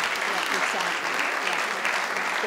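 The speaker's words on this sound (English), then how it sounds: "give them another round of applause" An audience at a Lunar New Year celebration at the Nixon Library claps for the performers, a thick, even wash of applause from a large crowd, steady and close, with no clear voices.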